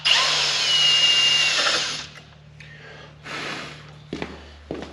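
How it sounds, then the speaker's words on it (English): A power drill slowly boring out a stuck part on an old Lincoln welder, one steady whining run for about two seconds, then short bursts with pauses, close and fairly loud. "So we're just gonna drill out very slowly, and we're gonna graduate from small to big"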